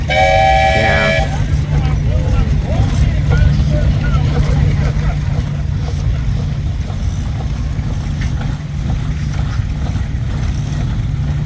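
An antique steam engine at a showground gives one short, clear whistle blast at the start. A steady low mechanical hum and rumble follows, with people talking in the background.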